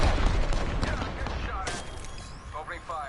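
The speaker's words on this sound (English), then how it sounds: "they're throwing grenades at me." Gunfire and grenade blasts in the Apex Legends battle royale game, a dense burst of shots and booms fading into scattered fire, with game voice lines over the action.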